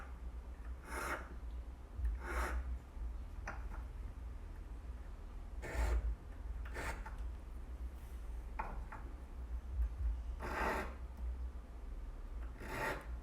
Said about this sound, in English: file that little bit of solder off